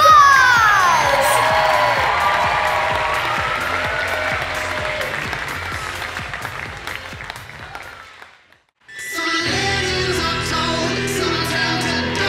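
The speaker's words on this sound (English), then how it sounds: "Everybody, give David a big round of applause!" Audience at a kids' magic television special breaks into loud applause and cheering with shouts and whoops, sustained for about eight seconds, then a brief hush before another burst of clapping and crowd noise.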